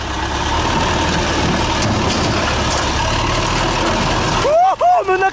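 A tractor engine rumbles steadily in a Chernobyl-set video game, a low continuous drone that cuts out near the end as a voice speaks.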